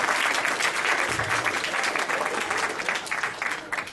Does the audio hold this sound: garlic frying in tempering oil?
no